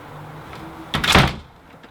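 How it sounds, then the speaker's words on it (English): A door swings shut over a newly fitted draught-proofing seal along its bottom edge, giving one close, solid thud with a short dull rumble, alone against a quiet room. "now we'll just close the door to double check that that's sitting in the right place"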